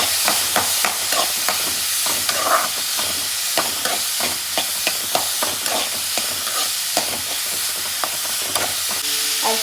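Tomato and green chillies sizzle in a hot pan while a spoon scrapes and stirs them in quick, repeated strokes, close up, with a constant frying hiss underneath; no talking.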